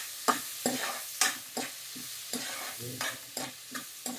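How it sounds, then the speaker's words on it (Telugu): Cumin and shahi jeera fry in ghee for jeera rice, with about a dozen regular scrapes of a spoon stirring them around the pan over a soft sizzle, close up. "జీలకర్ర, సాజీరా రెండు కూడాను ఇప్పుడు వేపుతున్నాం మనము"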